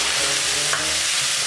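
Half a cup of milk goes into a sauce on the stove for chicken vegetable rolls, giving a steady, even sizzling and bubbling hiss from the pan with no talk over it.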